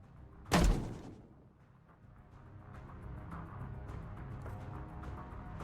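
A depth charge detonates in a submarine warfare video game, a single loud heavy boom followed by a low rumbling, churning wash that lingers at a steady level.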